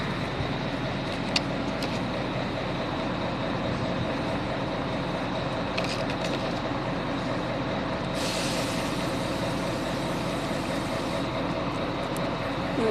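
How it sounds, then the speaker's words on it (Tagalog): A truck engine rumbles close by, with sharp hissing bursts of air brakes breaking through the steady mechanical drone. "maingay po yung dito truck"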